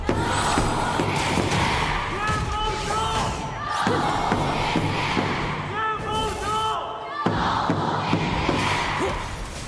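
Arena crowd at an Honor of Kings esports knockout match roars and cheers steadily throughout, with loud surges, shouts and bangs, while casters talk over the noise.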